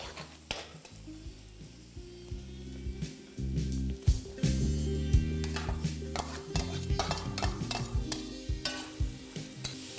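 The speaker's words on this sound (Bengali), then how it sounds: "তখন এর মধ্যে অ্যাড করে দিন পেঁয়াজ কুচি" Chopped onion sizzling in hot oil in a pan for restaurant-style dal fry, with a spoon stirring and scraping against the metal in irregular bursts, frying loud and continuous up close.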